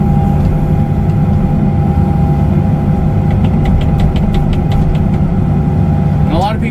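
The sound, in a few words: John Deere 50G mini excavator digging a trench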